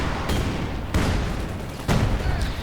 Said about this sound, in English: Ooh, point blank field gun barrage.